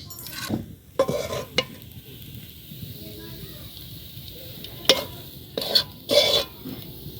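Semolina halwa stirred in a pan with a spoon, giving several short scraping bursts with quiet gaps between them and a soft sizzle underneath.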